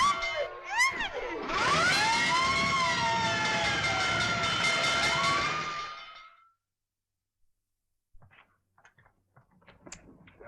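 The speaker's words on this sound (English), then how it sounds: "looks as if I finally get my ride on a fire engine" A wailing fire engine siren from a 1937 film rises and sweeps loudly for several seconds, then cuts off, leaving faint scattered background noises.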